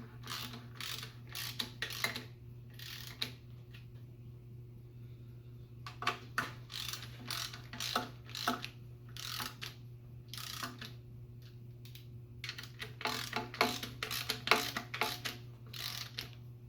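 Ratchet snugging valve cover bolts on a Chevy Iron Duke engine in an '87 Chevy S10, heard as bursts of quick clicking strokes separated by pauses, close and fairly quiet over a steady low hum.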